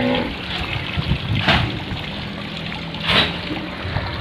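Rainwater runs across a flooded road during monsoon rain, giving a loud, steady rushing and trickling wash with a couple of brief louder splashes.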